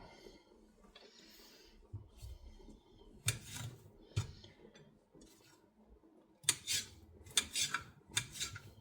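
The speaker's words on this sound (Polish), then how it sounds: "kroję teraz boczniaki" Oyster mushrooms being sliced with a knife, a quiet scrape and tap of the blade on a board, with sharper bursts of cutting near the end.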